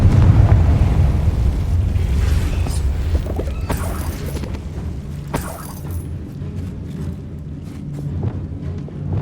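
Fire spell explosions and magical combat booms from the video game Hogwarts Legacy, a dense, loud rumble with repeated bursts and crashes throughout, no talk.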